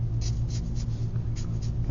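Marker and pencil strokes scratch across paper in quick, rhythmic bursts, close and distinct over a low steady background hum, with no talking.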